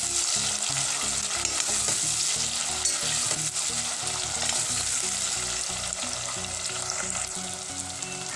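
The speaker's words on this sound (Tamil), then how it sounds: "தக்காளி போட்டு நல்லா வதக்கிட்டு" Onion and tomato frying for chicken dum biryani, a loud continuous sizzle broken by a regular rhythm of stirring scrapes across the whole stretch, with no voice.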